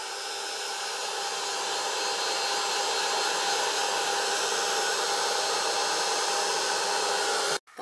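A hair dryer blows over wet craft paint in a steady, loud, unbroken whir that holds for several seconds and then cuts off abruptly.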